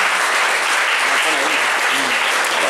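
Audience applause greeting a coach at a school media and journalism prize event: a continuous wash of many hands clapping, loud and sustained, with voices faintly mixed in.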